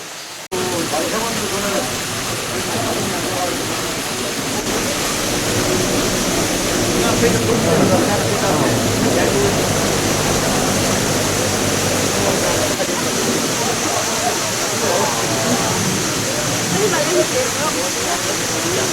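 A mountain stream rushes through a valley on the way toward Seryeom Falls in Guryong Valley, Wonju, giving a loud, steady broadband roar of flowing water heard close by, with no talk.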